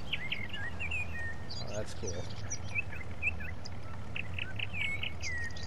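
Birds chirp and tweet repeatedly in the Farming Simulator 19 video game, with short bright calls from several kinds of birds scattered across the scene while someone talks briefly over them.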